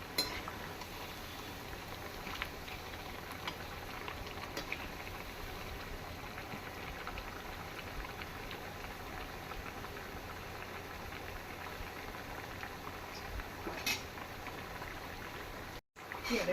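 Potato pakoras fry in oil over a medium gas flame, giving a steady, even crackling sizzle that fills the whole stretch without pause.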